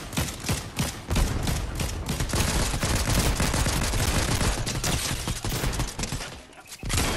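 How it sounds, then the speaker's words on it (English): Loud, dense gunfire from the Fortnite video game, with rapid bursts and sharp cracks piling up almost continuously for several seconds before a short lull near the end. "to your right, somebody's sniping at you."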